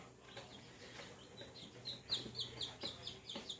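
Baby chicks, black Australorps and Buff Orpingtons, peep repeatedly in a nursery pen, a run of high chirps growing busier toward the end over a quiet background hum.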